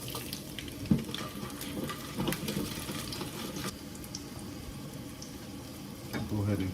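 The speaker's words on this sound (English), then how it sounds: "All right, that's our garlic. Go ahead, throw that in the pan." Garlic frying in a pan makes a low, steady sizzle with some scraping and clatter, fairly quiet and continuous, and a voice talks briefly.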